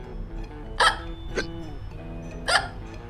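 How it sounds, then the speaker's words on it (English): Three separate hiccups sound during a children's read-aloud story, sharp and abrupt, spaced irregularly over a few seconds above a soft musical background. "Pete still has the hiccups."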